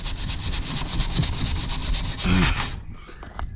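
A small wire brush scrubs rust off an old metal horse box in fast, rhythmic strokes, a close, harsh scratching that runs steadily and then stops, followed by a few faint knocks.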